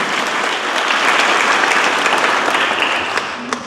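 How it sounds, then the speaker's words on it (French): Applause for professors introduced at a school ceremony, a dense, steady wash of clapping from a large audience, loud and continuous before fading slightly at the end. "Sous vos applaudissements."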